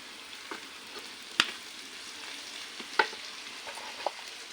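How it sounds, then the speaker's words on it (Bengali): Onions frying in oil in a pot for a dried fish mash, a soft steady sizzle with a few sharp crackles and pops, quiet and without talk. "এদিকে শুটকি ভর্তার পেঁয়াজ ভাজা হইতাছে"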